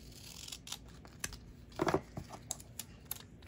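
Scissors snip through a gingerbread-style sign, giving a few close, crisp cuts with a louder crunching cluster near the middle and scattered light clicks around it, with no talking.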